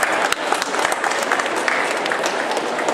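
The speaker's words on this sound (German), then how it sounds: "Ja, herzlichen Applaus für diese beiden jungen Comic-Macher." Loud, close applause from a morning comic festival audience, honoring two young comic creators; brisk, dense clapping with a few sharper claps standing out, continuing throughout.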